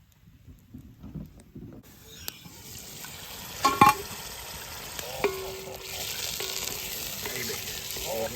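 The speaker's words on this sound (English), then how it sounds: "Sizzle, sizzle, sizzle." A soft, crackling sizzle builds after a quiet start and carries on steadily, with a few clinks of utensils against a pan.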